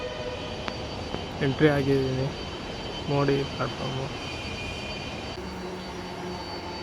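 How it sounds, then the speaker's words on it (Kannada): A metro train pulls in at a new station platform, its engine and motor hum rising and then fading, with brief speech heard in between. "ಟ್ರೈನ್ ಬರ್ತಾ ಇದೆ ಇವಾಗ"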